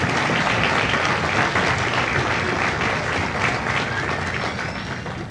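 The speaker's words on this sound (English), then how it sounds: "Give yourselves a round of applause." A crowd claps steadily at a Marine Corps recruit graduation ceremony in San Diego, a loud, dense wash of applause that continues throughout and eases slightly toward the end.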